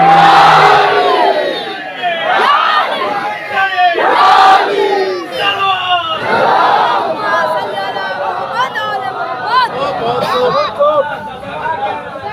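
A large majlis crowd loudly chants the Nara-e-Haidari slogan in repeated rising shouts and whoops, with a lead voice calling and the gathering answering in surges over murmuring chatter.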